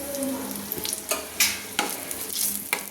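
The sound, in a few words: bay leaves and dried red chillies frying in oil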